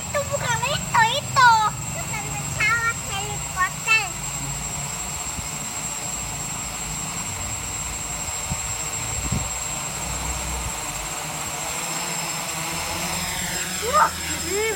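Motors of a DIY quadcopter drone built on a Pixhawk 2.4.8 controller, a steady whirring buzz throughout with brief rising and falling pitch sweeps as it lifts off and flies, at moderate distance under occasional voices.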